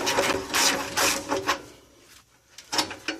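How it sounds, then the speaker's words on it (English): A ratchet wrench loosens a 12mm head bolt on the exhaust mount of a 1996-2000 Nissan Pathfinder, giving several short mechanical clicking bursts close by, then a pause and a final burst, with no talking. "Let's go ahead and remove that 12mm head bolt."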